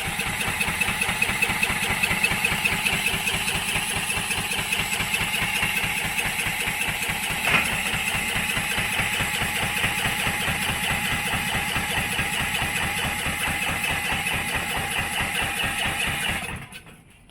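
A Coleman generator engine cranks over and over without catching, a steady fast mechanical churn that runs loud and close for about sixteen seconds before cutting off.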